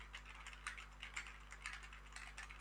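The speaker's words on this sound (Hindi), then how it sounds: "ये है एक कीबोर्ड टाइपिंग नॉइस टेस्ट" Quiet, steady clicking of keys on a computer keyboard, a continuous run of light taps under a low background hum, recorded as a noise test through a CosmicByte Equinox Phobos gaming headset microphone.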